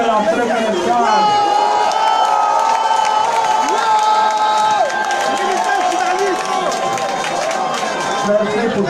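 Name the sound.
crowd cheering and applauding the former first lady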